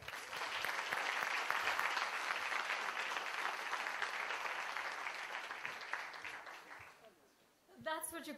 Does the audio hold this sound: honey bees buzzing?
no